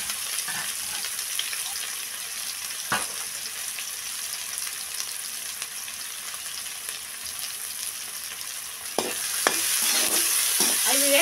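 Three medium-sized onions sizzling and frying in a pan for a tomato and broad bean curry, with a steady close hiss, occasional stirring scrapes, and a louder burst of sizzle near the end.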